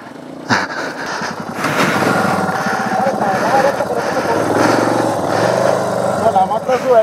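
A motorcycle engine strains and revs unevenly at close range while riding uphill on a mountain, with people talking over it.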